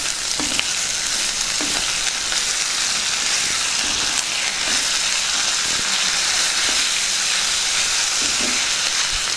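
Soaked cauliflower is stirred in a hot pan, with a loud, continuous sizzle and faint scraping strokes beneath it throughout.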